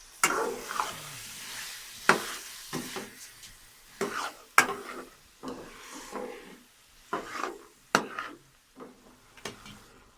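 Potatoes and mungra are stirred in a pan, with a string of scraping, clattering strokes of a spoon against the pan, each followed by a soft sizzle, in an uneven rhythm at close range.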